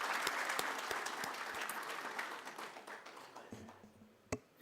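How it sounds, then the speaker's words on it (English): An audience at a 2024 fertilizer and soil health conference applauds the moderator with sustained clapping that thins and fades toward the end, followed by a few isolated taps. "Can we also give a round of applause for our moderator?"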